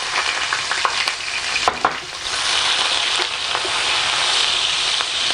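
Chopped onion sizzles in hot oil for Cameroonian jollof rice, a loud, steady hiss close by, broken by a few clinks and stirring scrapes.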